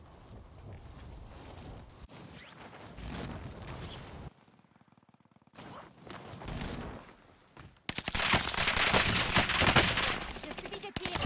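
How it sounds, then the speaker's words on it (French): Bursts of automatic gunfire in the Warzone video game, dense rapid volleys that stop and restart, then erupt loud and continuous near the end, with wind-like noise in between. "Je subis des tirs."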